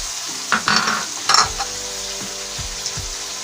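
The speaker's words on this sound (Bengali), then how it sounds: "আমি এখন একে একে সব মশলা দিয়ে দিচ্ছি। দিয়েছি লবণ, টমেটো পিউরি, আদা রসুন পেস্ট 2 টেবিল চামচ," Prawns fry in a pan with salt, tomato puree and ginger-garlic paste, making a close, steady sizzle with a few louder stirring scrapes near the start and then a continuous crackle.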